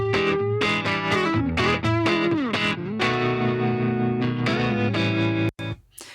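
Two electric guitar tracks driven through Decapitator saturation play a distorted, effects-laden phrase with sustained chords and quick picked notes, loud and close, ending abruptly.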